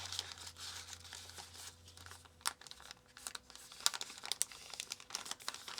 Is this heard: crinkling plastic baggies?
yes